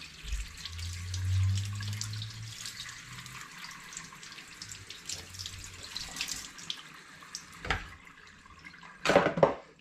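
Water runs from a tap as salted sausage casings are rinsed, splashing and trickling steadily with a few louder splashes and clatters near the end; no one speaks.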